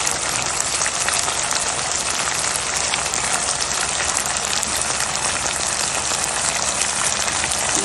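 Chicken pieces for a fresh cream chicken dish fry in a pan over medium heat after being flipped, giving a steady, dense, loud sizzle that holds evenly throughout with no talking.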